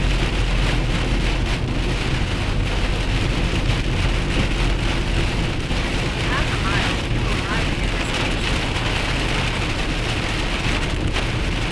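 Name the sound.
heavy rain during a thunderstorm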